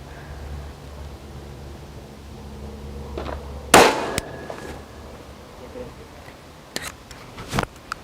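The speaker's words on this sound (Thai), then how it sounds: "ใช้ปืนสั้นยิงนะคะ ขนาด9มม" A single sharp 9mm handgun shot fired in a test against a target, a loud crack standing out from quiet ambient noise, followed by a few fainter knocks and clicks.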